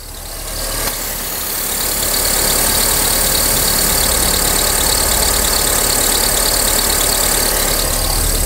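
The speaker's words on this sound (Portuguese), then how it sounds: "Nós temos um barulho aqui na correia de acessórios." Close, loud steady idle of a Fiat T-Jet car engine in a workshop with the air-conditioning compressor engaged and a noisy accessory belt, a continuous whirring drone after a short rise in level.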